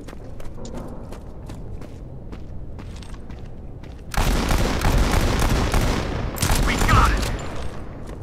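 Gunfire in the Modern Combat 5 shooter game: faint, spaced shots at first, then a sudden loud, sustained burst of rapid automatic fire, with a second swell near the end.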